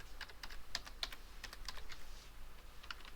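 Someone types a network configuration command on a computer keyboard, producing quiet, irregular clicks in short bursts with no talking.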